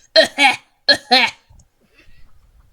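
Two pairs of short, harsh cough-like bursts from a sheep close by, followed by quiet low rustling.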